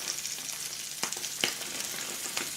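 Salmon fillet searing skin side down in a hot skillet, a steady close sizzle broken by a few sharp crackles and pops, with no talking.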